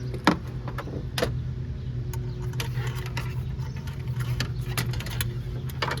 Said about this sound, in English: Pull the plug, put the dipstick in there.